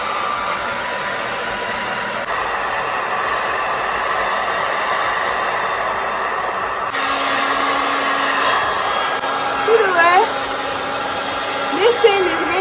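A hair dryer blows in a continuous loud whoosh with a slight motor whine, holding steady and shifting tone partway through, with a few faint squeaky sounds over it near the end.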